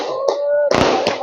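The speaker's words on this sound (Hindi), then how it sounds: "आतिशबाजी इस समय की जा रही है" Fireworks bursting at a welcome ceremony for a BJP candidate arriving at his residence in Gandhinagar, Jammu; a sharp crackling bang follows a tonal whine, close and loud, with a crowd noise under it.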